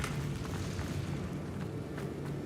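A Bombarda spell explodes in Hogwarts Legacy, a deep booming blast that rolls into a sustained rumble with faint crackles on top.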